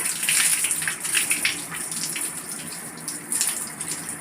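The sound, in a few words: water scooped and poured over head to rinse hair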